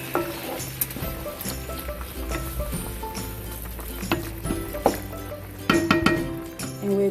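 Kale and okra soup with sliced tomatoes stirred in a pot, a steady sizzle under scattered clinks of a spoon against the pot, louder knocks and scraping toward the end.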